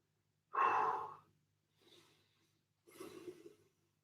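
Deep breaths during a home lower-body strength workout: one strong close exhale, then a softer breath and a longer rough one, each separated by quiet pauses.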